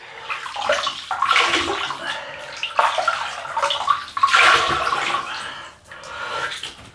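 Water splashes and sloshes in bursts as hands scoop it up to wet a face before a shave with a double-edge razor, several close splashes spread over a few seconds, with no talking.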